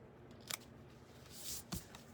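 Two crisp snips of sharp scissors cutting a 12x12 paper sheet for card making, close and quiet, with a soft rustle between them.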